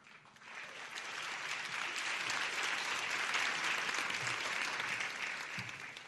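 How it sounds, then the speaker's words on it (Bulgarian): An audience at the ICAR 2016 theatre awards ceremony breaks into applause, a dense and sustained wash of many hands clapping that swells quickly and holds steady throughout. "Вашите аплодисменти за госпожа Лилия Баджиева, която ще обяви името на победителя и ще връчи наградата."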